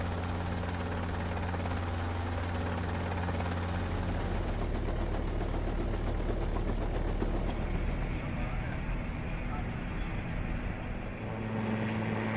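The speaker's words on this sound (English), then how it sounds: "the squadron flies the VH-3D Sea King and the VH-60N White Hawk helicopters" A VH-3D Sea King helicopter flies with a steady, loud rotor drone and low throbbing hum throughout, the pitch and texture shifting slightly as it moves.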